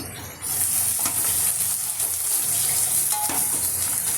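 Onions sizzle and fry in a pan for a village-style paya curry, a loud continuous hiss with occasional crackles and soft stirring scrapes, close up and without any voices.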